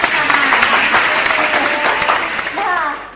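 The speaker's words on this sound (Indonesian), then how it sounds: "Nah, tepuk tangan dulu." Small group clapping in a podcast studio for a few seconds, fairly close and lively, with voices and cheerful chatter mixed in over the applause.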